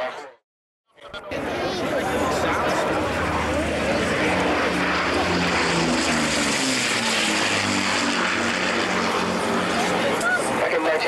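A propeller aircraft of about 2,480 horsepower, capable of nearly 500 miles an hour, roars loud and close at the 1989 Barton airshow. The engine drone is steady and rises in pitch after a short silence at the start, and someone talks over it.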